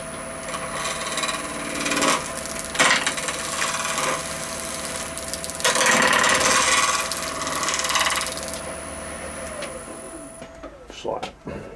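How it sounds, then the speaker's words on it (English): A small 1/4 inch spindle gouge scrapes a hardened glue bead off an epoxy resin piece, giving rough rasping strokes in bursts close by, with a longer, louder scraping run midway and faint talk in the background. "The first thing we want to get off is that glue bead"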